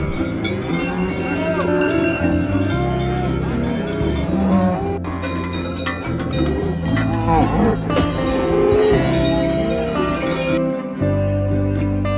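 Cattle low and cowbells clink and clank steadily during a transhumance festival in Aubrac, France, with voices and a busy, crowded background throughout.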